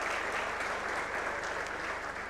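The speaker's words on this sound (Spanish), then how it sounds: "Aplaudimos a los compañeros." Steady audience applause at an education and technology panel, dense clapping at an even level throughout the short stretch with no voices on top.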